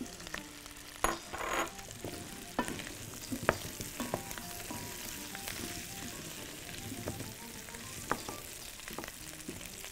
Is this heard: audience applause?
no